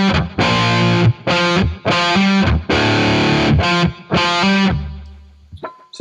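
Distorted electric guitar in drop D tuning plays a heavy, chugging riff: loud, close chords in short, punchy bursts with brief gaps between them, ending on a lower sustained note as the sound tails off.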